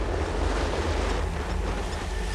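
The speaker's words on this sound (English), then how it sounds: "Facing high waves and strong winds, Captain Peter refuses to head out on the wa" High waves and strong winds buffet the open Nile during a fishing expedition, a continuous roar of surf and gusting wind with rumbling mic buffeting, loud and unbroken throughout.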